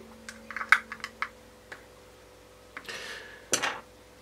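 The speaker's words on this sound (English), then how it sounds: "using a small prying tool and gently prying from the bottom and popping the radio out of the casing itself" Small plastic clicks and snaps as a Quansheng handheld radio is pried from its plastic casing with a small prying tool, a scatter of light taps followed by two louder pops near the end, close and isolated.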